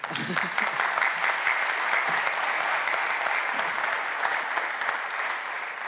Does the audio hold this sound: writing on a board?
no